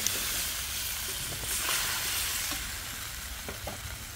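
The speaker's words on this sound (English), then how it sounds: "So now I'm gonna put in the mangoes in there." Curry with mangoes added sizzles in a pot over a backyard fireside chulha at sunset, a steady close frying hiss with soft stirring scrapes and no talk.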